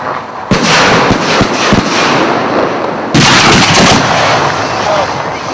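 Rapid bursts of fireworks launching, sharp pops and crackles in quick succession, loud and close, with a second dense volley near the end.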